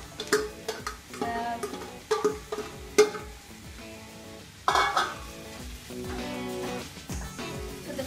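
Minced mutton, pressure-cooked with turmeric and salt, fries in a pan while a spoon stirs it, producing a soft steady sizzle under repeated scraping clinks of utensil on metal.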